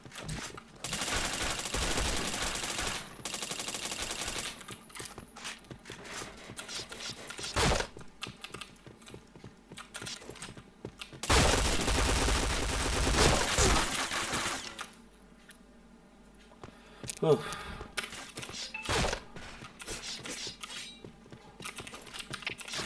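Video game gunfire, rapid bursts of automatic shots in several loud dense stretches separated by quieter gaps with lighter clicks and scattered single shots.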